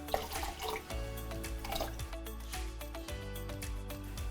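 Dark vinegar poured into a Wake Up Juice cocktail, a steady liquid trickle and splash lasting several seconds, close and fairly loud, with no voices.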